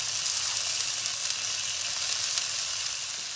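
Chicken satay skewers sizzle and fry in a pan, a steady close hiss and crackle without pause.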